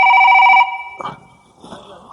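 A telephone rings loudly with an incoming call from Europe in a short drama film, sounding a rapid electronic trill for about half a second before cutting off, followed by faint handling noises and a brief voice.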